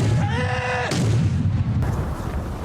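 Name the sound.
cannon fire in The Last Samurai film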